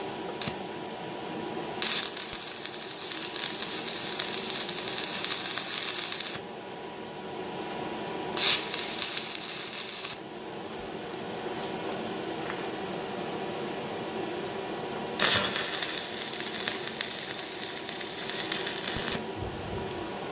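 Tack welds being laid on a Krone mower bed in a farm workshop: several bursts of steady crackling hiss, each a few seconds long, with quieter gaps between them and no talk.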